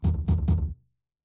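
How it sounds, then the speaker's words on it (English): Three quick, heavy knocks on wood in a spooky video game potion-making scene, close and evenly spaced, ending in a short fading tail. "knock thrice on wood"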